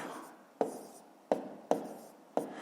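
Pen strokes writing out a column multiplication by hand for a fifth-grade maths exercise, heard as four sharp, close scratches spaced about half a second apart, each fading quickly, with no talking.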